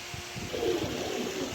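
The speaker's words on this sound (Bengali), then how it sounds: "এক পেয়ার গ্রিবাস কবুতর দিলাম, হাইফ্লার বুদাপেস্ট কবুতর" Budapest highflyer pigeons cooing softly, a low rounded murmur repeating across a short stretch, close but faint under a faint background hiss.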